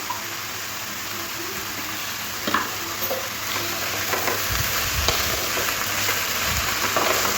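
Prawns and banana stem are stirred as they fry in spices in a pan, giving a steady close sizzle broken by scraping and clattering utensil strokes, with no voices.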